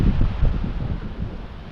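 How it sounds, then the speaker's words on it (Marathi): Wind blowing outdoors under a cloudy sky near farm fields, a steady low rumbling gust buffeting the microphone throughout, with no voices. "सुटान वारा सुटलेला आहे."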